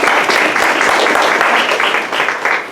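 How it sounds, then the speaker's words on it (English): Audience at a scholarship award dinner claps steadily for about three seconds, a dense, loud wash of many hands filling the room and easing slightly at the end. "So big round of applause."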